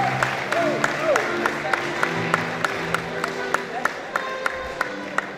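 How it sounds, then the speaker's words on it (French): An audience at a university inauguration lecture claps and cheers. Steady crowd applause is punctuated by sharp individual claps, with some rising vocal whoops and calls mixed in. "Ces acclamations-là."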